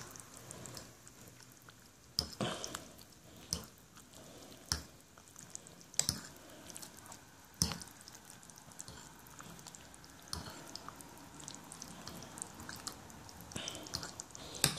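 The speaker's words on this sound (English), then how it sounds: "Now that we've got it together, we should stir it up a bit." A spoon stirs a lamb casserole with tomato and noodles, giving soft, quiet squelches and scattered wet clicks at an irregular pace, close but faint.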